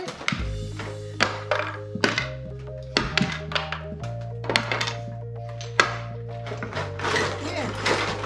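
Nerf gun darts fired at a target during play, heard as a run of sharp thunks and taps over a steady tonal electronic hum, with children talking intermittently.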